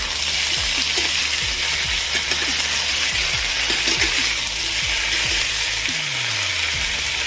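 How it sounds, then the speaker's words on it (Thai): Vegetables stir-fry in a hot pan with garlic, giving a loud constant hiss of sizzling oil with brief scraping pushes of the spatula repeating throughout. "จากนั้นนะครับเราก็ใส่ผักลงไปเลย ผัดนิดนึงนะครับ"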